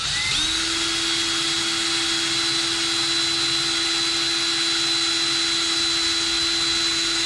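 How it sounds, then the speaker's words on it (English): A power drill bores a hole through a plastic syringe for a simple hydraulic crane build, producing a loud, steady high-pitched whine that runs without a break for several seconds at close range. "We'll need to drill a hole through the syringe here."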